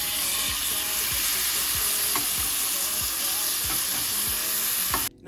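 Steady loud sizzling of meat frying in a hot pan, with occasional scraping or stirring taps, cutting off abruptly at the end.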